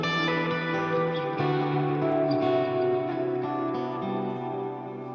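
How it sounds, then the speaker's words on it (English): A Strymon El Capistan tape-style delay pedal throws a guitar into heavy, cascading echoes, sustained chords smearing into dense repeats and swirling reverb tails at a steady, loud level throughout, with no voices. "I've got a Strymon El Capistan, and I've got the favorites button hooked up. And you hear how crazy that echo is"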